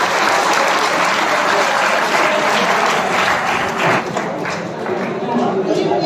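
Sustained loud applause from a seminar audience at a motivational event at a government ITI college, dense clapping filling the room steadily for several seconds with a crowd murmur beneath.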